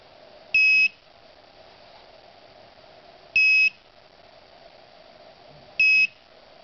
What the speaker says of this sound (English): If I move it faster, then it beeps about